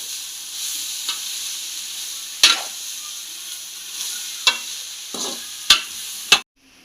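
Boiled toor dal is stirred into leaves frying in a pan, a soft continuous sizzle broken by sharp spoon clacks against the pan at uneven intervals, ending abruptly with no talk.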